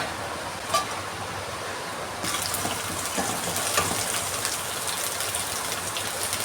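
Green chillies and curry leaves drop into hot coconut oil already popping with mustard seeds for ladies' finger pachadi, giving a steady, fairly close crackling sizzle that grows louder partway through, with no talking.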